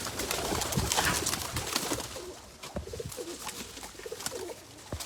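Taddy pigeons cooing in soft, low repeated calls within a busy, noisy setting where the birds are kept for sale, with a constant rustling background and no voices.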